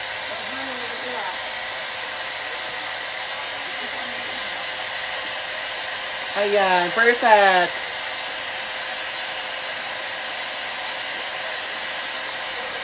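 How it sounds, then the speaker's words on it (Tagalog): A hair dryer whirs in a constant, steady airflow hiss from start to finish, close and even, while someone briefly speaks over it partway through. "kailangan ko siya i-blower para makita agad ang result."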